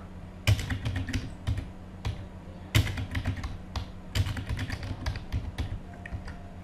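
Computer keyboard typing while entering a class cleaning duty schedule in Microsoft Word, with quick bursts of clicky keystrokes, brief pauses between bursts, and a couple of louder key hits, close and clear without talk.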